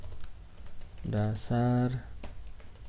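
Computer keyboard keys clatter in light, irregular taps as HTML code is typed, with a short stretch of talking in the middle.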